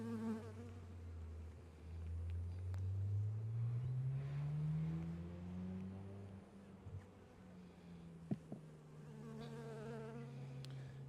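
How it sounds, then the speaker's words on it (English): Honey bees buzz around a hive, a soft, steady drone of many wings that comes and goes in pitch, quiet overall, with a few faint knocks and no talking. "Calm bees."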